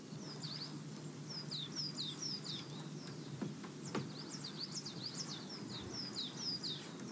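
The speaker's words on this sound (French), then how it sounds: "Il y a des oiseaux." Small birds chirping and tweeting outdoors in a quiet natural setting, with repeated short calls scattered through a steady low background hum.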